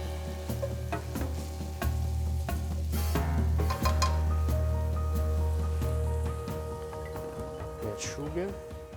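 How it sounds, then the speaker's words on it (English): Garlic, chili and anchovies fry in hot oil in a pan, a loud continuous sizzle with occasional stirring clatter and a low hum underneath. "As soon as this oil is hot, we add our garlic and chili and then the anchovies, which will dissolve into the oil"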